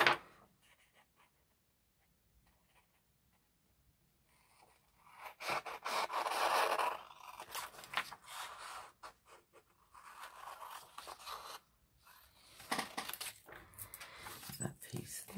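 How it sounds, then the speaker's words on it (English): Scissors snipping through printed paper ephemera in a crafting session, a run of close, crisp cuts and rustles with short pauses between bursts, after a quiet start. "I'm just going to cut that out."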